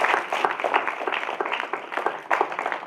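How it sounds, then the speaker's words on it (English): Applause at an inauguration ceremony: a crowd claps steadily for about three seconds, a dense patter of many hands at moderate distance with no break. "You guys deserve a big round of applause."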